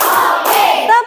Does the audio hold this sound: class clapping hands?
yes